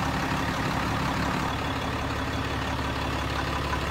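A 2015 Ram 3500 Laramie pickup with a Cummins turbo diesel idles with a steady, close, low rumble. A faint rhythmic diesel clatter runs through it, and the engine note stays even from start to end.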